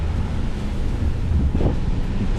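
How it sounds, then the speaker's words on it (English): Rough sea surf after Hurricane Beryl in the Cayman Islands, a steady low roar of waves with strong wind buffeting the microphone, continuous and loud with no talk. "Yeah, the sea is rough"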